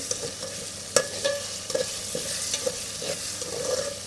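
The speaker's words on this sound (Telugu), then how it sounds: "అల్లం వెల్లుల్లిపాయ పేస్ట్ కూడా వేగిపోయిందండి" Ginger garlic paste fries in a pan with a steady close sizzle, broken by sharp scrapes and taps as a spoon stirs it, and no voices.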